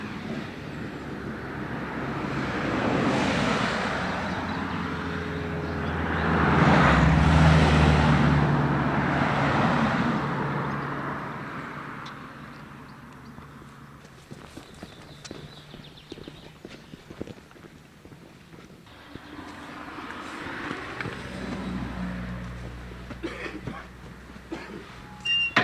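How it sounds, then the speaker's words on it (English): Steady road traffic on a busy route toward the tower before TT on the Isle of Man, with vehicles swelling past and fading in a continuous rumble, loudest early on and thinning to scattered noises later. "but as you can hear, fair amount of traffic."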